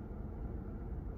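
Low, steady engine rumble from a running car, continuous and fairly quiet, with no other sounds.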